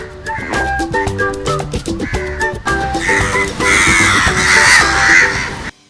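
A crow gives loud, harsh caws close by, repeated in a series, over a steady tonal background that becomes denser toward the end.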